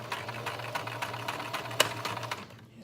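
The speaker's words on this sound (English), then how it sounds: "Put the needle down to the fabric. Back stitch. And we're gonna stitch forward." A sewing machine stitches an elastic leg band onto fabric, its rapid steady mechanical chatter close and continuous with a low motor hum, one sharper click partway through, then stopping near the end.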